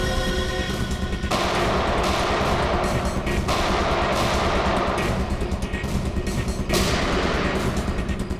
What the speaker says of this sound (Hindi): वहां से चल रही है गोलियां।